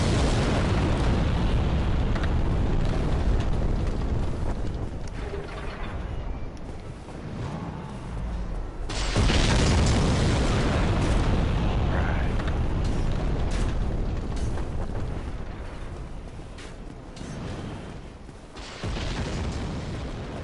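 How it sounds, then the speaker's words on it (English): Repeated booming explosions going off in the Dark Souls video game, loud and dense throughout with a big burst near the middle, over constant game noise. "there's a sound of explosions going off around here"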